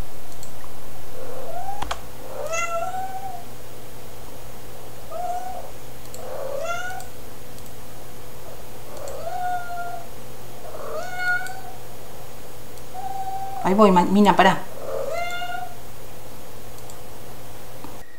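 A hungry house cat meows for food about eight times in a steady, insistent series, close and clear over low room hum, with a person speaking briefly near the end.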